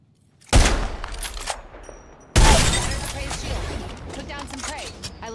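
Gunfire in Apex Legends, two loud broadband bursts of shots, the second longer with a ringing tail, alongside game effects and faint voices.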